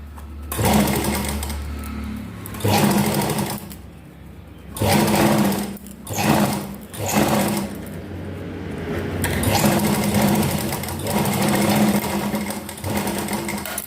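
A sewing machine stitches buckram onto a garment neckline, its motor whirring in several loud bursts of rapid stitching separated by short pauses, close by and with no talking over it.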